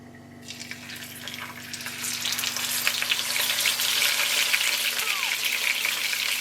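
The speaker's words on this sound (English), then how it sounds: "I got my pan set up at medium to high heat. Got some olive oil we're gonna drop in." Olive oil sizzles in a pan on medium-high heat as pan-seared cod cooking begins, a quiet hum giving way to a rising bright crackling fry that grows loud and steady up close, with no talking.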